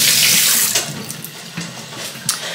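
Water running from a home tap into a sink, a steady close hiss and splash that eases slightly after the first moment, with small clatters and knocks over the flow and no one speaking.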